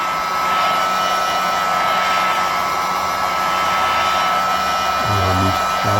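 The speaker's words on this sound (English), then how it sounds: "Heat gun, and just gently heat it up." A heat gun blows steadily while warming a leather strop for cleaning, a loud continuous whooshing roar held close throughout with no pauses.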